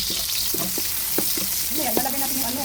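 Onions sizzle and fry in a hot pan, a dense, steady hiss broken by a few soft stirring knocks, with a faint voice near the end.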